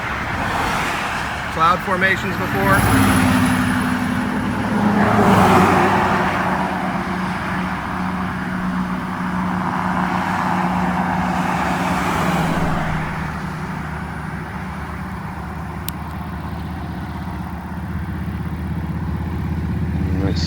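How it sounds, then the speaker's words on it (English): Road traffic passes close by a roadside spot: engines swell and fade as several vehicles go past, with one loud pass early on and a continuous rumbling hum, while someone talks over it. "Sorry about the traffic."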